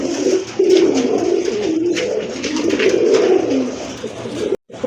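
Pigeons kept for sale coo in repeated, rolling low phrases close by, loud and continuous with a brief break near the end.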